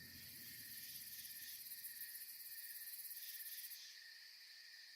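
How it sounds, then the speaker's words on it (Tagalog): Crickets chirp steadily in a dense, high-pitched chorus, a continuous pulsing trill that stays fairly soft and constant throughout. "Malakas na ang huni ng mga kuliglig ng pumwesto na kami para matulog."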